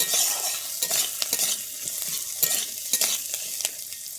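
Onions being stirred as they fry in a pan for crispy chana pepper salt: a steady sizzle cut by repeated sharp spatula scrapes and clacks at an irregular rhythm, close and clear.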